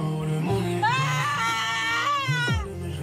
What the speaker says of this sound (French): sa mère crie sa douleur